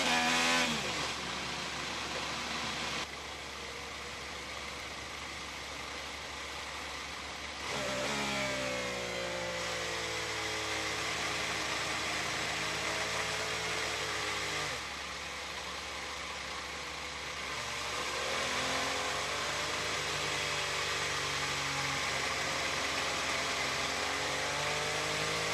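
IndyCar race car engines in the pit lane at Mid-Ohio during second pit stops, a steady high mechanical whine with rising and falling revs as cars pull in and out, fairly distant and with no talk.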